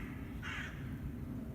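A single crow caws once, fairly distant, over a steady low outdoor rumble in the woods.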